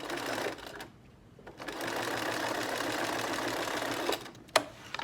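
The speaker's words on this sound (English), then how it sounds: "I am going to squeeze that under my machine and sew across there" A sewing machine stitches a seam through leather or vinyl upholstery for a boxed dining chair seat, running in a steady close whir with a brief pause early on and a few clicks and knocks near the end.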